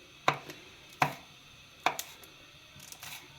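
A knife chops finely through green chillies on a board, giving a few sharp, close, separate taps spaced roughly a second apart, with softer follow-up strokes.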